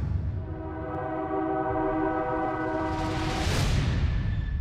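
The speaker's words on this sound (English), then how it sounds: "Freight Train." A freight train horn blows one long, loud, chord-like note that holds steady for several seconds, while the rushing roar of the passing train swells underneath it.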